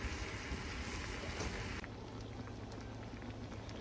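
Water pouring into a pot of braised prawns, a loud rushing hiss at close range that drops to a softer, steady bubbling simmer partway through.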